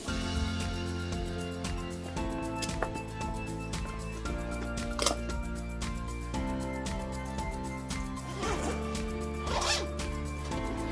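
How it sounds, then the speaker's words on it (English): The zipper on an eBags Mother Lode travel backpack is pulled open in a run of quick, close-up rasping strokes, with small clicks and rustles of fabric between the pulls. "we'll just unzip it here"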